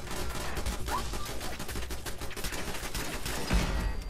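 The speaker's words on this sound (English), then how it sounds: "I think there's a turret firing at Dogmeat" A turret in the video game Fallout 4 fires at Dogmeat, a dense, continuous rattle of rapid gunfire with sharp cracks over a busy combat background, loud and unbroken throughout.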